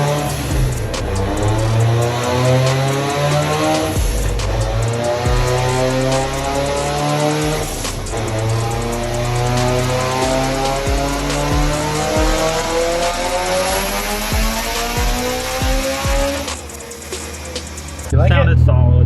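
A 700 whp Mitsubishi Evo engine screams through a dyno pull, its pitch climbing steadily through repeated gear sweeps, loud and close, before cutting off sharply near the end.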